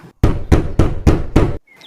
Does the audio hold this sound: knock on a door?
yes